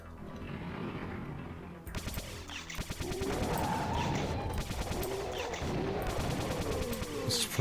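Rapid gunfire from the Last Rites video game, dense overlapping shots in sustained bursts that start after a quieter lead-in and stay loud and close.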